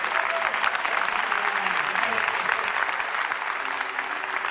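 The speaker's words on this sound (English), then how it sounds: "Okay, let's give a round of applause to this." A crowd applauds steadily at a 1994 Star Trek convention costume contest, a dense clatter of clapping that swells and slowly tapers while a voice talks over it.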